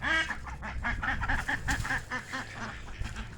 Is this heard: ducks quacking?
yes